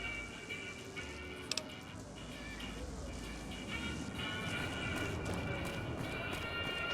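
Hoofbeats of a cow being chased around the Strip in Fallout: New Vegas, a quick clopping run heard under steady game ambience and background noise.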